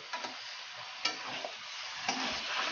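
Chicken kaliya sautéed in a pan, held with tongs and stirred, giving a soft continuous sizzle with three distinct scraping strokes, close and quiet.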